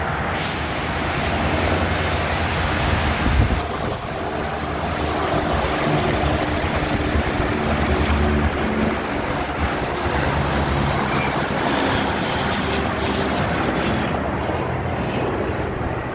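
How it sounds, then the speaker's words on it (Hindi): A loud, continuous roaring drone of a helicopter overhead in Karachi, steady throughout with broad rumbling noise and no voices. "अच्छा ऊपर हेलीकॉप्टर भी है"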